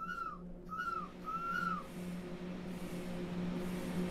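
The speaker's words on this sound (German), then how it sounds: "Pfeife klingt auch immer so, als ob der irgendwie gerade irgendwas überfährt" A train whistle in Train Sim World 4 sounds three short rising-and-falling toots in quick succession, fairly clear over a low steady rumble of the locomotive that continues afterward.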